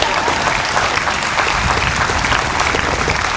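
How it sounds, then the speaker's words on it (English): A crowd at a high school commencement ceremony applauds steadily, dense and loud clapping filling the whole moment without a break. "Yeah, clap it up, come on."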